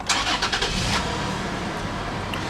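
Starter cranking catches on a 2010 Toyota 4Runner's 4.0-liter V6, a brief burst of mid-pitched engine noise settling at once into a steady, fairly loud idle heard up close with no talking.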